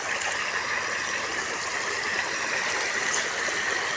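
Steady rushing rainwater flows continuously during a heavy rainstorm, a broad hiss with no breaks, moderately loud and close, without speech.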